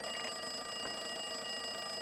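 A desk phone rings in the Max Payne 2 video game, an electronic ringing tone droning steadily under a dense game soundscape with no talking.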